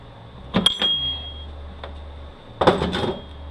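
Gears pried off a small disassembled part by hand with an adjustable tool make two quick bursts of sharp plastic clicks and snaps, close up, separated by a quiet pause.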